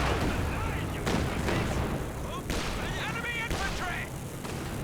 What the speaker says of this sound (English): Good Calliope barrage.